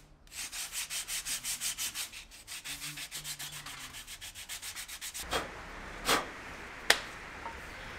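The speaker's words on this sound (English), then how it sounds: "followed with a bit of sandpaper just to smooth it out a bit" Sandpaper rubbed back and forth over the edges of a handmade pressure flaking pad, a rhythmic series of close scratchy strokes followed by a few sharp taps.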